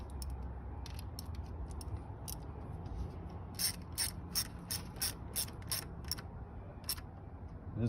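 A ratchet wrench with a 10 mm socket snugs a bolt on a 2005 Toyota Corolla engine, giving a run of quick, evenly spaced metallic clicks close up, alone against a quiet background.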